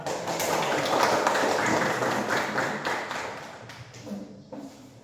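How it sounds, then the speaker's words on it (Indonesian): A classroom of children claps together, a burst of fairly close, busy clapping that builds then thins out, tapering to a few scattered claps toward the end. "Tepuk tangan dulu lah."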